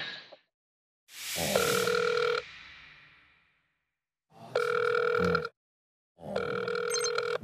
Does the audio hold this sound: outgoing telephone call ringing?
yes